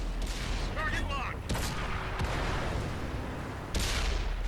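Tank cannon shots in World of Tanks on Xbox, fired while driving an Object 430 Version II, a few sharp booming blasts spread across the clip over constant engine and battle rumble.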